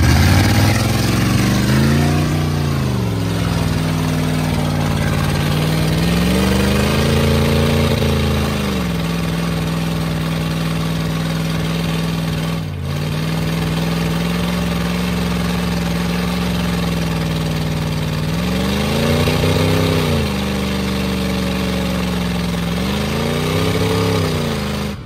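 A Dodge car engine roars at high revs during a tire burnout, held loud and close with repeated rises and dips in pitch as the throttle is worked, no voices.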